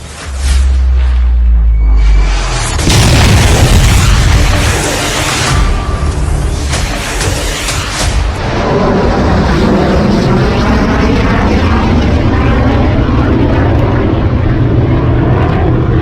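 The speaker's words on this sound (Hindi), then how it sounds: "पिछले दिनों यह ब्रह्मोस मिसाइल का टेस्ट भारत ने किया है।" BrahMos missile test launch: a loud roaring blast surges up after a brief low rumble, then settles into a sustained broadband roar that fades slowly, with no talk.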